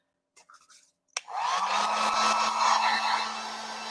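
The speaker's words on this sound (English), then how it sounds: "I'm just going to warm it up with my heat gun so that it's flexible again." Heat gun blowing hot air onto WoodUBend flexible moulding, a steady loud whoosh with a low hum that starts after a brief click and runs continuously to the end.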